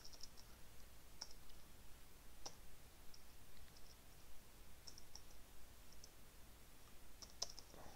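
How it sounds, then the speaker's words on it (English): Sparse, faint keystroke clicks on a computer keyboard while writing boot-sector assembly code, scattered irregularly over a steady low background hiss with no talking. "Having some problems typing here for some reason."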